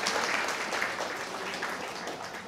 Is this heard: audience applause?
yes